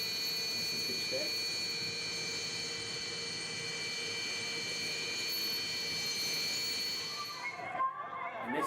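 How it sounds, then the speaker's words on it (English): A B-52 bomber roars past during a flypast at an air show, its jet engines producing a steady, loud, broad rumble with whining tones that fades near the end. "The B-52 bomber. This is a fly past from based in Fairford."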